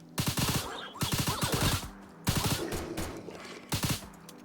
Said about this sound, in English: Chat, they're shooting, chat.